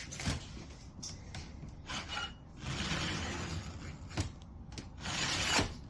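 Scribe dragged along a 4-inch by 19 3/4-inch sheet metal strip for an HVAC base can on a manufactured home, giving repeated close scratchy rasping strokes with small metallic clicks, no talking.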